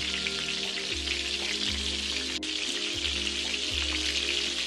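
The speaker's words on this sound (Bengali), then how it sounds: "তো একবারে সব মাছগুলো ভাজা হবে না, আমি দুবারে মাছগুলো ভেজে নেব" Bata fish frying in hot oil, a steady close sizzle and crackle like rain hissing throughout, with a faint low rhythmic hum underneath and no talk.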